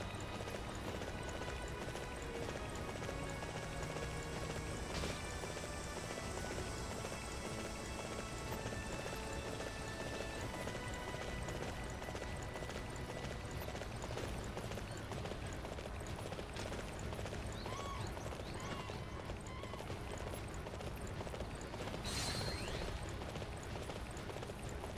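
Rapid rhythmic hoofbeats of a galloping horse continue steadily throughout, with game-like ambience and occasional whooshes layered underneath.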